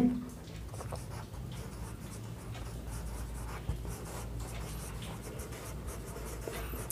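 Chemical reaction equations being written out by hand, producing continuous soft scratching and scribbling strokes at close range with no talk.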